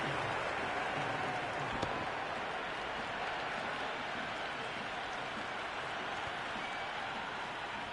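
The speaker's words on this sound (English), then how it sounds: "The crowd is electric right now." A stadium crowd cheers and roars at a T20 cricket match between Chennai Super Kings and Peshawar Zalmi, a dense, continuous wash of noise that stays fairly even throughout and sounds distant and diffuse.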